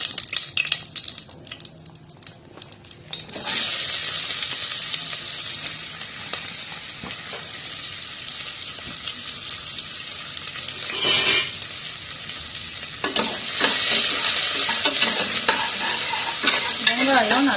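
Onions and green chillies sauté in a pan for biryani. A quiet start gives way to a loud, continuous sizzle and hiss with stirring scrapes, and a brief surge near the middle before the frying rises again.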